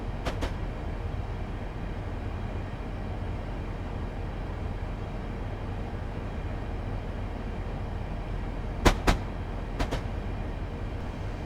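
A train in Train Simulator 2015 descends a 1-in-132 gradient through a tunnel under light braking, giving a steady, dense rumbling roar with a few sharp clicks near the start and end.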